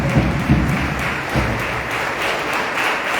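An audience at a folk music gathering applauds the singers and musicians, a moderate burst of clapping with a few stronger claps early on that settles into a steady patter.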